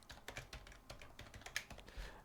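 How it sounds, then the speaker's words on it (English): Lines of code typed on a computer keyboard, a quick irregular run of close, crisp key clicks with short pauses and no talking. "let's say that somebody decided to modify this file and typed a couple of the other"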